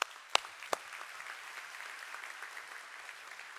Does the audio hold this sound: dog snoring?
no